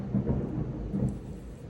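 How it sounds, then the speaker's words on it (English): Low, rolling thunder rumbles during a rainy thunderstorm, two heavy swells of deep rumble rising and fading across a short stretch, with no voices. "Thunderstorm"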